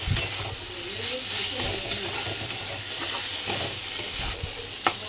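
Chicken and potato filling for paratha fries and is stirred in a pan, a steady sizzle with scraping stir strokes and a few sharp clinks, fairly close, with no talking.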